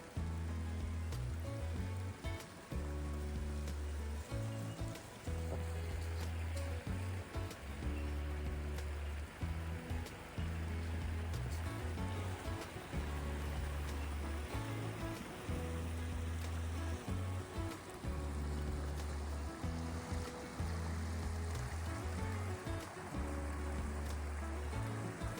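A vehicle crosses rivers in off-grid southeast Queensland, with continuous rushing, flowing water and a low, pulsing engine rumble that stays loud and steady throughout.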